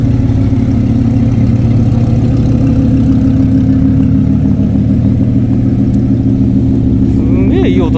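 Supercar engines, including Ferrari, Lamborghini, Porsche, Dodge, Orochi and McLaren, idle and rumble loudly and continuously at a car festival, a deep steady drone with a slight rev near the end.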